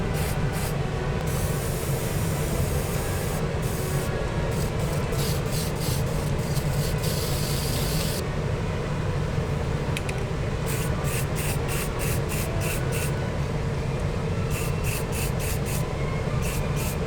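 A spray can of surfacer primer hisses steadily and continuously at close range over a 3D-printed figure, with short interruptions in the spray; no talking.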